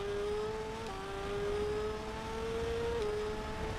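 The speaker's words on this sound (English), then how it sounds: "you're hearing the engine rumble, you're hearing the brake" Motorcycle engine in the TT Isle of Man 2 racing game, a steady high whining drone held near constant pitch with slight shifts, loud and unbroken, with no talking.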